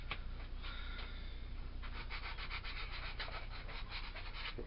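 150-grit sandpaper rubs against the small leftover nub on a lathe-turned wooden spatula. The quiet, raspy strokes are close and grow busier and more rhythmic midway through.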